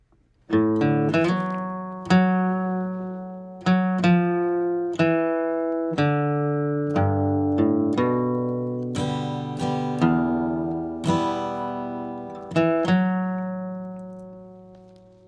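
A guitar line played slowly and cleanly, single plucked notes ringing out one after another with long decays, unhurried and alone.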